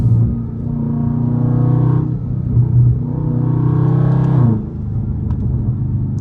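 A Dodge Scat Pack drives on the highway, engine droning loudly from inside the cabin with a rising whine through two acceleration pulls, each easing off before the next.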